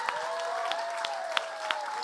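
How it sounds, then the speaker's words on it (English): Audience at a live Filipino arts show in a London venue applauds, with scattered sharp claps over a steady sustained musical tone. "we should give a round of applause for the greatness that is on stage"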